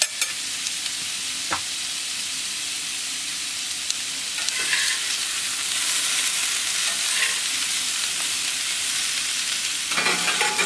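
Quail searing on a very hot plancha, a loud, steady hiss of fat crackling close up, broken by a few sharp pops and intensifying midway, with no voices.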